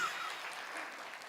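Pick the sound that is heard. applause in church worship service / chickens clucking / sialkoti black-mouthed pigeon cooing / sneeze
applause in church worship service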